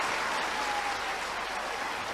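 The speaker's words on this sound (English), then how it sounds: "like the great sportsman he is, he applauds his opponent as Jimmy White fights his way to the final." Steady, dense applause from a snooker crowd at the Crucible, loud and continuous without a break.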